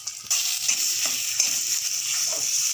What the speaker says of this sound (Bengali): এবার এই বেটে রাখা কচুটা আমি এর মধ্যে দিয়ে দিচ্ছি, কচু পাতার ভর্তাটা দিয়ে ভালোভাবে নেড়ে চেড়ে নাড়িয়ে নেব।